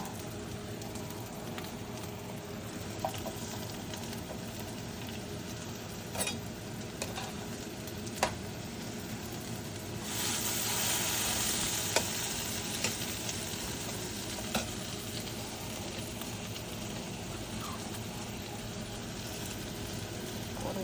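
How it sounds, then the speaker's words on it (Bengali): Onions frying in mustard oil: a steady soft sizzle with occasional light ticks of a stirring spoon, swelling briefly louder near the middle, fairly quiet and without speech. "এখন আর একটু সরিষার তেল দিয়ে দিব দিয়ে পেঁয়াজ দিয়ে দিব"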